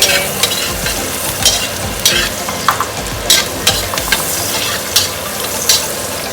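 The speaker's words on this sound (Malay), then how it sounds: "Kita goreng bawang ni untuk menyedapkan lagi rasa nasi goreng kita ni." Onions for nasi goreng kampung sizzle loudly in hot oil while a utensil scrapes and stirs the pan in frequent irregular strokes, close up and with no talk.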